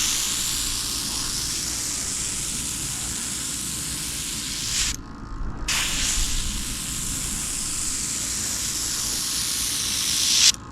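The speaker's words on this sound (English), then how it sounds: "I'm going to be airbrushing for the first time." An airbrush spraying metallic paint, a steady close hiss of atomized spray that cuts off briefly in the middle, then resumes and continues in a long, even burst.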